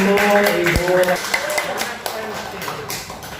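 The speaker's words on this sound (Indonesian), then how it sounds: "Ya, boleh tepuk tangannya untuk Ibu." Scattered clapping from an audience at a press event for a drama series, with a few sharp claps breaking through while a voice talks over the start.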